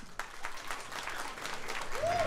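Audience at a live comedy roast show in Colombia breaks into sustained applause, steady and fairly loud throughout, with a voice briefly audible over the clapping near the end.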